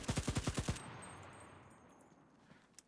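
AK rifle fired in the video game Enlisted: a quick burst of about seven sharp, evenly spaced shots, then a fading echo tail and one faint click.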